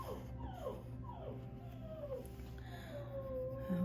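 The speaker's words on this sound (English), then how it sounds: "Okay, my puppy wants to come into the room." A puppy whimpers in a series of high, thin whines close by, repeating every half second or so before a longer drawn-out cry.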